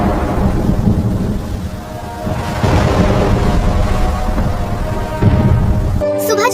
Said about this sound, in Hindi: उस रात बहुत तेज बारिश होती है, आंधी और तूफान आ जाता है